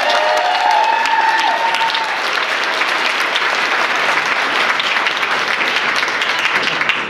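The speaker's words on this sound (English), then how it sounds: "So let's hear it for Terry." A convention crowd applauds steadily and loudly for several seconds at a Monkees Pop Hall of Fame induction, dense clapping with a few faint cheers near the start.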